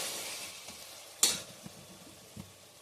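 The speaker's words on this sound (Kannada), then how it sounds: "ಫ್ರೈ ಮಾಡಬೇಕು. ಈ ಮಸಾಲೆಗಳೆಲ್ಲ ಹಾಕೋಣ." Spices frying in a pan for jackfruit biryani: a soft, steady sizzle broken by one sharp metallic clink and a few quieter utensil knocks.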